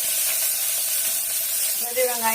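Curry leaves drop into hot oil for chicken biryani, giving a steady close hiss and sizzle that swells slightly near the end.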